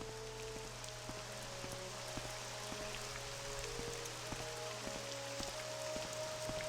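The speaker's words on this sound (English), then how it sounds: "The wonderful, wonderful Bitter Coast weather. It's cold and rainy and filthy." Steady rain with dripping drops falling on the Bitter Coast in the Morrowind video game, a soft continuous patter with faint droplet ticks throughout.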